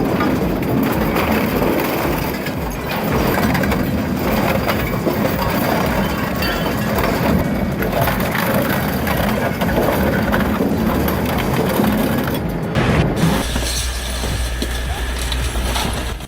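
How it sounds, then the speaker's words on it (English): Industrial shredder driven by a Volvo 768-horsepower engine tearing through logs, a loud, dense, continuous grinding roar with splintering wood crackle and occasional metallic clinks, ending in a deeper steady rumble. "you feel the power of a Volvo 768 horsepower engine tearing through logs without hesitation"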